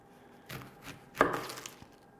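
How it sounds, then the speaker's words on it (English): Onions being chopped with a knife on a cutting board, a few close, fairly quiet cuts with one firmer strike in the middle. "we can chop up our onions"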